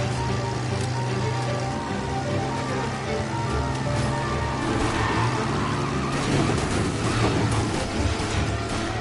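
A car engine drives steadily in Mafia: Definitive Edition, a continuous loud rumble with broadband road and wind noise running throughout, no clear talk over it.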